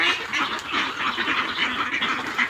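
A flock of domestic ducks quacks continuously while being fed, dense overlapping calls at moderate distance with no talk.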